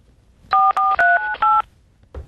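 Telephone number being dialed on a keypad, a quick series of six clear dual-tone beeps in steady rhythm, loud and close, with no talk over them.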